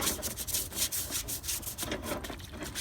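A stiff hand brush scrubs Pit Boss grill grates in quick repeated back-and-forth strokes, a close, faint, rasping scratch with an irregular rhythm and no talking.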